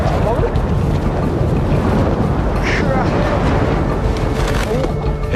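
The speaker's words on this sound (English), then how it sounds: "It's connected to the fierce westerly winds." Fierce westerly gale in Tasmania, a steady loud roar buffeting the microphone without letup, broadband rumble dominating the whole stretch with faint fluttering gusts.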